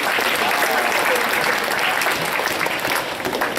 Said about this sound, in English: Can we please give them a big round of applause for everything they've done?